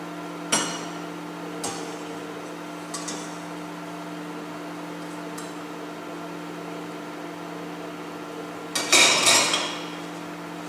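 Buckwheat porridge being stirred in a pot and skimmed with a skimmer, making a few sparse metallic clinks and scrapes, with a cluster of louder knocks near the end over a steady background hum.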